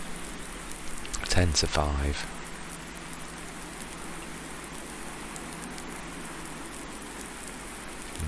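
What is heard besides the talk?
rain falling in Farming Simulator 19 video game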